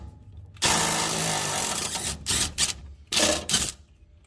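Power tool whirring in loud bursts as a number 8 easy out bites into a stuck bolt on a crusty Chevy S10 frame, one long run followed by several short pulses.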